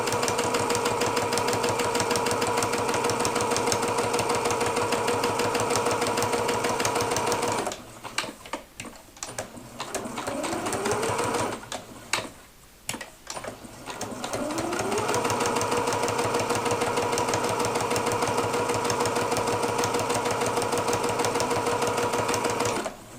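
An industrial sewing machine stitches across a strap to secure an O-ring in steady, rapid runs, stopping twice midway for a few seconds of quiet handling before resuming.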